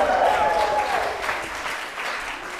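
A congregation at a Sunday worship service bursts into cheering and applause, with a loud wash of clapping and voices that fades gradually over a couple of seconds while people talk over it.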